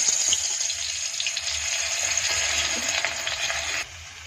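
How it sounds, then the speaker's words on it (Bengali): Garlic fries in hot oil for a katla fish curry, a steady bright sizzle close up that continues evenly and then drops off sharply near the end. "তেলটা গরম হয়ে গেছে, রসুনটা দিয়ে দেব"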